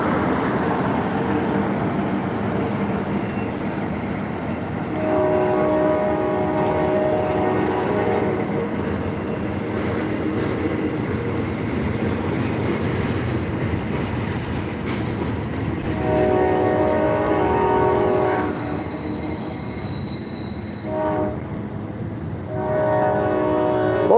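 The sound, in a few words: short train passing by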